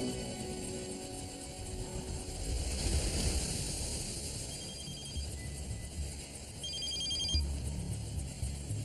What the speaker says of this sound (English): CTU, I've got a call coming in.